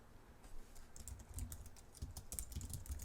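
Fingers type CSS code on a computer keyboard in a quiet, steady run of soft, close key clicks with no voice over them.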